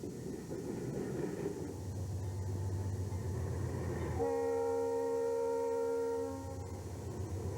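A Santa Fe freight train near Raton Pass rumbles along steadily, then its horn sounds a sustained chord for about two seconds over the continuous rolling noise of the cars.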